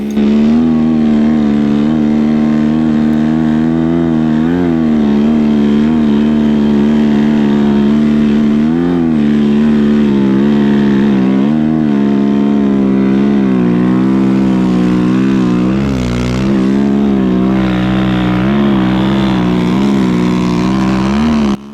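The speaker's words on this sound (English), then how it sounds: "When we switched bikes, Trevor on the new Aero3 just totally gapped me and went up the hill." A Timbersled Aro3 snow bike engine races up a snowy hill, a loud, sustained buzzing rev that rises and dips in pitch as the throttle changes, close and continuous throughout.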